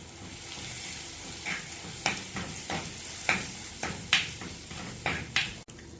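Tomatoes sautéing in a pan with turmeric, chili, coriander and pepper powders for egg curry (mutta mappas): a soft, steady sizzle with several sharp stirring scrapes of a spoon against the pan, fairly quiet and close.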